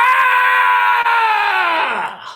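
A person vocally imitates the werehog's scream from the Sonic games: one loud, sustained, strained shriek held for about two seconds, trailing off at the end.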